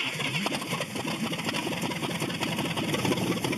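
An old barn-find vehicle's engine running steadily after starting, giving a dense, even mechanical drone with a boat-like burble that stays constant throughout, and no talk.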